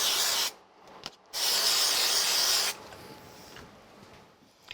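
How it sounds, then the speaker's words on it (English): Spray glue hisses from an aerosol can onto a cut white die piece for a handmade Christmas card, two bursts of steady, close, fairly loud spraying with a short pause between them. "so I'm going to use some spray glue."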